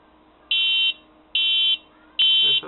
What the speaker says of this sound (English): that right there is my laser tripwire with the Arduino